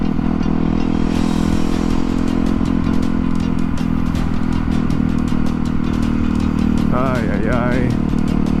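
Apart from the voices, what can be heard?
motorcycle accelerating hard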